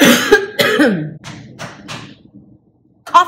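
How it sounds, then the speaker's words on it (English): A burst of harsh coughs, several in quick succession, loud and close, fading into softer breathy hacks, followed by a short sound at the end. "Coughing"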